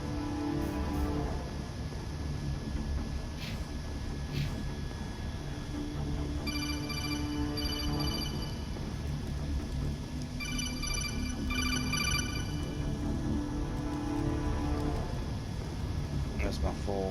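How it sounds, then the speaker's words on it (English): An in-game phone from Mass Effect rings with repeated high electronic trilling tones over a steady background hum, while a person talks throughout. "That's my phone."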